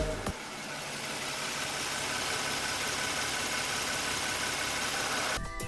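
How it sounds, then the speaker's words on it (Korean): A 2018 Genesis EQ900 sedan engine idles steadily at close range, an even hum and faint ticking with a brief click at the start and end. "마지막으로 엔진 소리 한번 들어보겠습니다."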